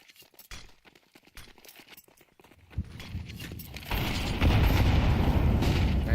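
Grenades exploding in the middle of a Counter-Strike map during a pro match: scattered sharp pops give way to heavy booming blasts that swell into a loud, sustained rumble, with no talk.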